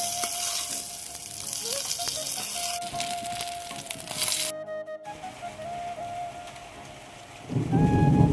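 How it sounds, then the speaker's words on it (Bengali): A thunderstorm with rain over a rural garden and kitchen setting: continuous rain hiss with rolling thunder, broken by abrupt cuts and a short silent gap, then a louder rumbling burst near the end. "আকাশে খুব বেশি পরিমাণে মেঘ করেছে, এই মুহূর্তে হয়তো বৃষ্টি নামবে"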